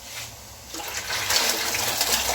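Ground masala mixture poured from a vessel into simmering goat intestine broth, a soft watery gush that swells after a moment and continues steadily, close by.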